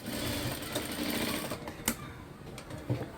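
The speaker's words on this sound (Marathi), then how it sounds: "आणि यावरती पुन्हा शिलाई करायची" A sewing machine runs steadily and close, stitching the shoulder seam of a garment, with a continuous whirring drone and a few sharp clicks near the end.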